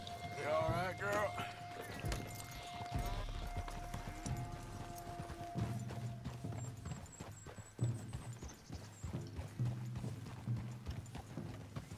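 Horse hooves clip-clop steadily in the video game Red Dead Redemption 2, a rhythmic walking gait heard under ongoing talk and game background sounds, with a brief neigh early on.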